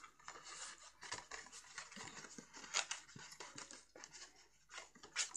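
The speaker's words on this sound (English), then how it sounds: "Bring it up to your score line and fold it round." Cardstock is creased along a score line while a box fold card is being made, giving a string of close crisp rustles, crackles and short paper scrapes of uneven strength, with no speech over them.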